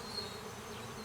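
Honey bees at a hive in early spring make a soft, steady, close buzzing drone with no voices.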